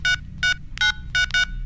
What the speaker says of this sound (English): Kelly then disconnects the group video call and rings Sally Shaw on her phone